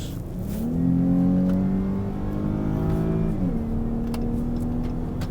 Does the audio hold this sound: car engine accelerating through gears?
yes